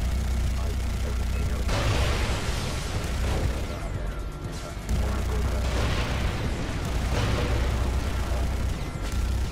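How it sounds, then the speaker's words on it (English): Continuous heavy booms and blasts roll on without pause, a dense wall of explosive rumble with bursts of crackle, from battle in the video game Far Cry 3: Blood Dragon. "Explosions everywhere."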